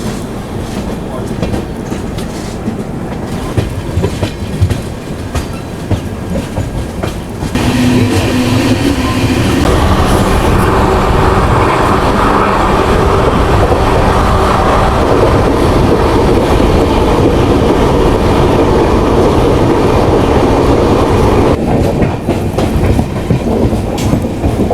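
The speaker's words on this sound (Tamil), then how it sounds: "பேசஞ்சர் ட்ரெயினுங்க, நல்லா நின்று தான் போகும்." Passenger train on the Visakhapatnam to Araku line rolls along steadily, a loud continuous rumble and clickety-clack of wheels on rail heard from aboard, growing denser and brighter partway through.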